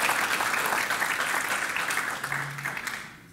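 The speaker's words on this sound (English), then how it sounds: "Give a strong applause." A church congregation applauds during a Spanish-English sermon: dense, steady clapping fills the room for about three seconds, then fades quickly.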